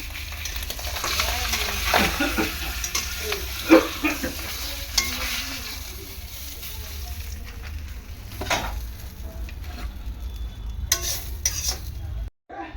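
Fish heads fry in a hot pan with a steady crackling sizzle and occasional stirring scrapes, close and fairly loud, with no talking.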